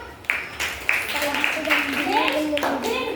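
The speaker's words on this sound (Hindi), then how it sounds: "दिल्ली. Very good. ताली बजाओ." Students in a classroom clap together at the teacher's prompt, a short scattered round of claps with the teacher's voice speaking over it.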